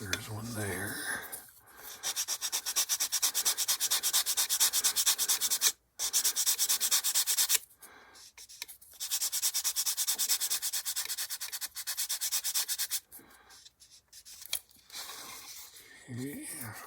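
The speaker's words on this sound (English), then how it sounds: "we're sanding away the primer too" Continuous gritty sanding scrapes on primer over a plastic 1/48 B-25J model kit in long bursts with brief pauses, close up, while a voice talks quietly in between.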